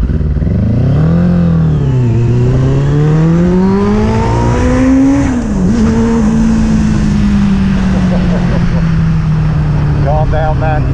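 Kawasaki ZX6-R motorcycle with freshly jetted carburettors on a test ride, its engine loud and close, pitch rising and falling through gear changes and throttle sweeps, with wind noise throughout.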